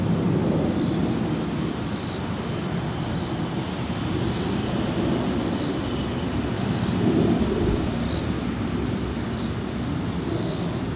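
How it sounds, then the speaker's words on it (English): A jet taking off from Reagan National passes overhead as a steady, broad roar that holds throughout without fading. A faint, regular high chirping, likely insects, pulses about once a second alongside it. "we got a flyover here, right there, going from the south to the north, and it's going to turn"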